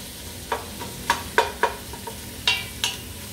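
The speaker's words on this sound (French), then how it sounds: "On fait revenir les oignons." Onions frying in a pan and being stirred, with a series of sharp scraping strokes at uneven intervals over a soft background hiss; no talking.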